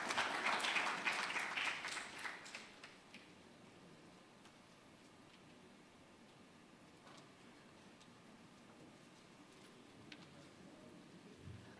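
Applause from an audience at a Ghana Institute of Architects annual general meeting, a burst of clapping that fades over about three seconds into a quiet, faintly ticking room.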